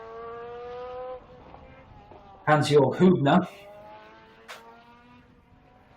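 A red and black Porsche 962 race car in Kenwood livery pulls into the pit lane at the Estoril Classics historic race, a brief loud engine burst with a squeal, heard under a commentator's continuous talk.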